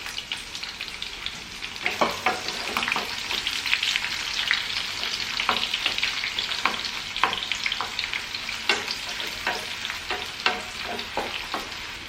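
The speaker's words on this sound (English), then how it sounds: "Fry it in a medium flame." Onion sizzles steadily in a pan over a medium flame with ginger, garlic, chillies and spice powder, a continuous crackling fry broken by frequent scraping stirs.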